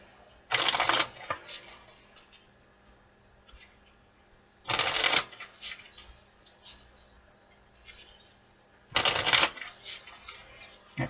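A Love Oracle card deck is shuffled in three quick riffling bursts spaced a few seconds apart, close and crisp over quiet room tone.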